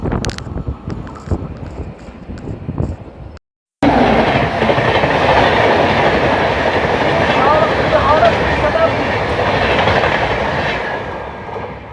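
Puri–Howrah Vande Bharat Express rushes along the rails, heard from on board another train as a loud, steady roar with clattering wheels and wind buffeting; muffled voices and rattling come first, then a brief silence before the noise surges.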